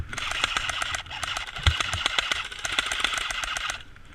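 Airsoft guns fire in rapid, clattering automatic bursts during an outdoor game, the sharp cracks overlapping at moderate distance, with faint voices behind.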